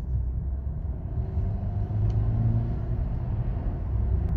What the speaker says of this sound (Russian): Резко берет обороты, нажимаешь на газ, и резко автомобиль разгоняется, не думает.